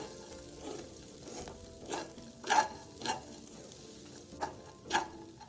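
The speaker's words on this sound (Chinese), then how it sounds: "时间到开盖，将糯米饭稍作翻拌。" Fried glutinous rice is turned in a wok after its lid comes off, with a steady low sizzle broken by about eight separate scraping strokes of the spatula, each a soft swish or scrape.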